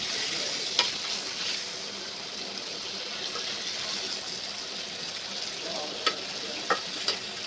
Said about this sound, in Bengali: আস্তে আস্তে লাড়াচাড়া করো, নাহলে ভেঙে যাবে মাছ।